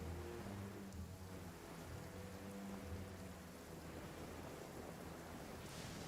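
Steady rain hisses in a video game storm, a quiet continuous wash with a soft low rumble of thunder underneath and no voices.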